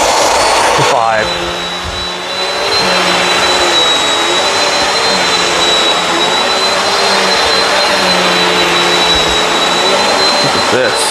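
Bissell CleanView Swivel Pet vacuum cleaner running on a big pile rug, a loud steady whining roar close by that dips briefly near the start, then holds constant with a high motor whine.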